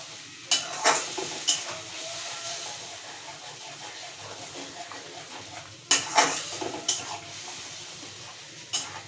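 Mustard-seed water stirred into a hilsa curry in a pan, with a soft steady simmering hiss and several sharp clinks of a spoon against the pan at intervals.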